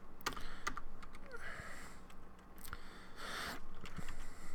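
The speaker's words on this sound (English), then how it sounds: "just to differentiate these, I'm going to type tab" Rapid, fairly close typing on a computer keyboard during a web development tutorial, with irregular bursts of key clicks and short pauses over a faint room hum, and no one talking.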